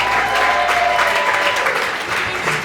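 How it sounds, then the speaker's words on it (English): Wedding reception guests give the bridal party a big round of applause. The clapping is loud, steady and continuous throughout, with no pauses. "Give them a big round of applause."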